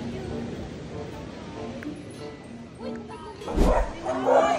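Dogs at a shoreline during an outing give a few yips and short barks, close by, amid talking and outdoor background noise.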